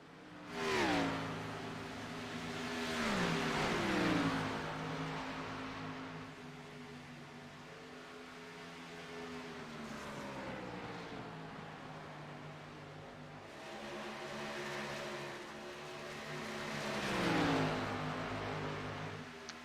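LEC NextGen Series race cars lap Chicagoland in a 150-lap race, engines swelling and fading as cars pass repeatedly at a distance. The roar comes in rising and falling waves with pitch sweeps, moderately quiet, with no talk.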